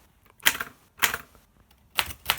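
Keys of a 1934 Underwood typewriter struck one by one, four distinct clacks about half a second apart, close up and fairly quiet, with nothing else heard.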